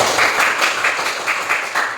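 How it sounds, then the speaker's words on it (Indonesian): A short burst of scattered clapping from a small group after a class presentation, uneven and close, lasting about two seconds. "Oke, berikan tepuk tangan sekali."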